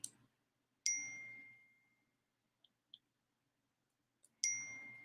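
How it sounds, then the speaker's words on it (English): A phone or laptop notification chime rings out twice, each bright ding ringing down slowly, with a few faint tiny blips between them in an otherwise quiet room. "Is that my phone dinging?"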